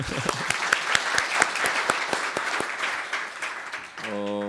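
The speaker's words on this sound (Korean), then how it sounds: "우선 박수 한번 보내주세요." Audience applause at a political party debate battle final, with distinct loud claps over a crowd clapping, fading near the end as a tonal sound enters.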